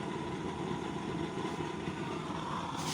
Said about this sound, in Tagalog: Lakas din ng apoy kahit naka-deactivate yung top holes niya.